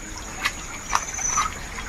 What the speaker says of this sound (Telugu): చూపించిన వాటర్ ఎలా పారుతున్నాయి, ఎలా ఉన్నాయి కదా.